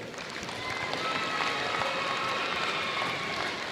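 Fans applaud at a North Dakota Division B district boys basketball tournament championship: a steady, dense wash of clapping and crowd noise that fills the whole stretch without a break.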